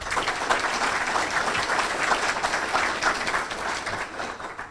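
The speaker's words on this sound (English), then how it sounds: "Please give yourselves a round of applause." Audience at a Kiwanis club gathering gives a sustained round of applause, a dense even clatter of many hands clapping at moderate level with little pause.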